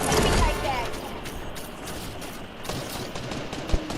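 Video game gunfire from Fortnite, rapid bursts of shots over a crackling background, with a sharp louder hit near the end and players talking over it.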